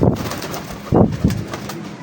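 A Teddy pigeon coos softly a few times in Lahore, low and throaty, close by, with a faint rustling background.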